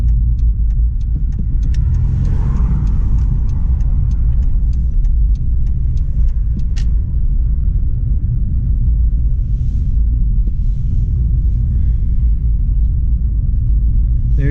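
Inside a Jeep driving on a road, a loud, steady low rumble of engine and tires carries on throughout, with faint rattles and clicks and no talking.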